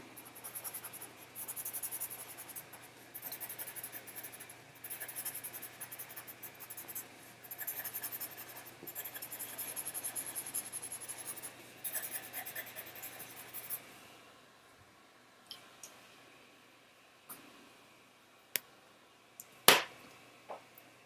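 Colour pencil pressed firmly on paper in steady scratchy strokes, close and continuous for about fourteen seconds, then sparser with a few sharp taps and clicks near the end.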